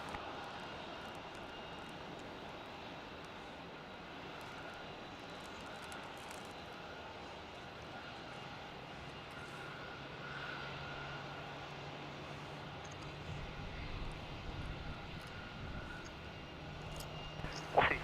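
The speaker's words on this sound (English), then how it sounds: "C337, runway 16, cleared for takeoff." An aircraft rolls for takeoff on runway 16 at Melbourne Airport, heard from a distance as a steady engine roar that slowly builds over a low broadband rumble.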